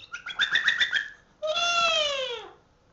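Pet parrots squawk in a loud, close burst of harmonic calls, a choppy run of short squawks followed by one long, drawn-out falling cry.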